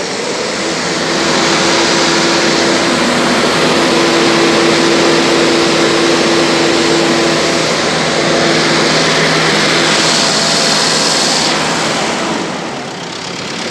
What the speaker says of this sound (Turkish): Şu an aracımıza gaz vereceğiz. 2400 deviri göstereceğiz.